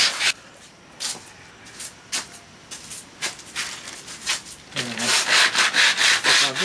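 Hand scraping of burrs along the corners of a wooden piece: a series of short dry rasping strokes with pauses between them, then a denser, louder run of rapid scrapes toward the end, close up.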